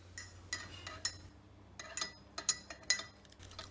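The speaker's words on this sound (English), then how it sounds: "I can hear my cup of tea being stirred" A spoon stirs a cup of tea nearby, giving soft, evenly spaced clinks against the cup over a faint low hum.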